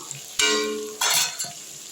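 Chicken being sautéed in a pan for chintamani chicken fry, two bursts of loud sizzling and scraping as the ingredients are stirred, the second followed by a short clack.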